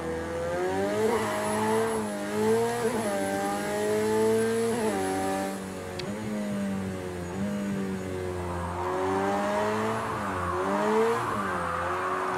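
A McLaren 720S drifting in the racing game Project Cars 2, its engine revving up and down in repeated sweeps while tires squeal steadily throughout, loud and continuous.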